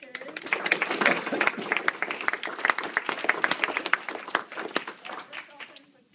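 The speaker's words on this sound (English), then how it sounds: "let's hear a round of applause to our speakers" A small audience at a startup talk applauds the speakers, scattered individual claps with sharp, distinct hits rather than a dense roar, tapering off near the end, with some voices murmuring beneath.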